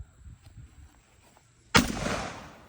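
A shotgun fires once at soda cans set inside a melon at a range, a single loud, sharp blast that rolls off into a long decaying boom after quieter low rustling.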